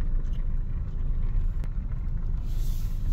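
A car with a 2.8 engine is on a test drive after its EGR valve, intake manifold, throttle body and EGR cooler were cleaned. A steady, loud road rumble and wind noise run throughout with no talking.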